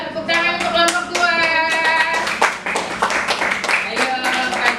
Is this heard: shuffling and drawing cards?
no